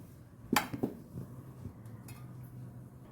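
A knife clinks against a metal plate while steamed coriander vadi are cut into pieces, with a few sharp taps close by, then quieter handling noise.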